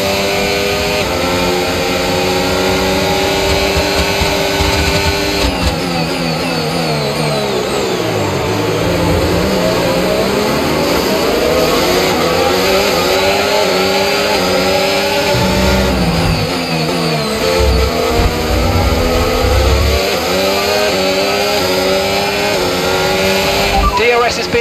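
An F1 car in the F1 25 racing game accelerates hard on overtake power, its engine screaming loud and continuous through rising and falling revs across gear changes, while a voice speaks over it.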